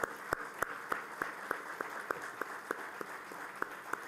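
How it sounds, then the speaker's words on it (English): A small audience claps hands in a slow, fairly regular rhythm after a call to stand, the claps sounding moderately near and sparse and forming a steady beat for about four seconds with no talking. "Can we all stand up and clap hands in humility?"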